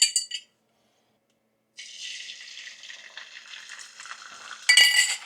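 A utensil scrapes and stirs eggs being scrambled in a frying pan, a steady close sizzling rasp that starts after a brief clatter and a silent pause, ending in a louder burst of scraping.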